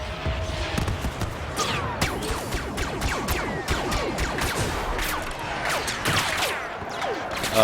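Rapid turret fire in Star Wars Battlefront, a steady, dense stream of blaster shots and impacts running continuously at close range with no talk.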